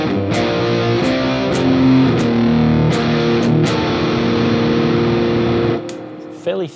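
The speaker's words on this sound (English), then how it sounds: "Fairly thick sounding kind of distortion." Electric guitar played through an unusual multi-type distortion pedal set to a thick, borderline fuzzy tone, sustained chords ringing loudly and close with a few sharp pick attacks, fading out near the end.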